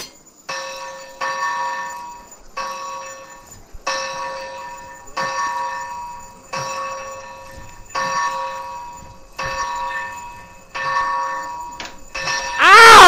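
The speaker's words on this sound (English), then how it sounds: "There's a bell I can ring." A church bell rung by the player in the virtual reality game Assassin's Creed VR peals in loud, regular strikes, about a dozen over thirteen seconds, each ringing out with sustained harmonic tones before the next hit.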